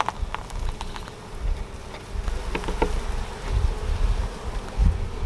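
Honeybees buzz steadily around an opened Flow Hive with brood and honey, a dense close insect drone with scattered louder passes of individual bees near the ear.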